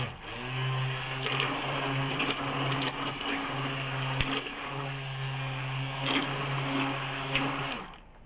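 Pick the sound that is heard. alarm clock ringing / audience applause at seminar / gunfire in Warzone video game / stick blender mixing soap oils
stick blender mixing soap oils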